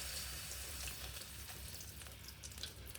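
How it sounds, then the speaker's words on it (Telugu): Oil poured into a pan for Vankaya Gongura Pulusu sizzles and crackles steadily, a faint, continuous frying hiss with small pops and no voices. "నూనె పోసుకుందామండి."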